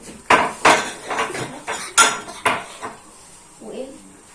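Glass cups and dishes clink and clatter in a home kitchen as they are cleared away during cooking. Several sharp, loud knocks come first, then a few softer rattles that fade out.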